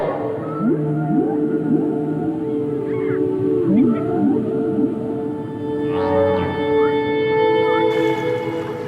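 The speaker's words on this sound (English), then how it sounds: "With humans gone, whales' mating songs are being heard from Canada to the Caribbean." Humpback-style whale mating songs underwater, a continuous chorus of long sweeping moans, rising and falling tonal calls and harmonic whoops, layered and fairly loud against a steady ocean background, with no voices.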